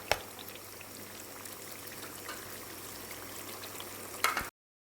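Water pours into a pan of chicken korma masala in a home kitchen, a soft, continuous trickling stream that stays quiet and close, then stops abruptly with a small splash near the end.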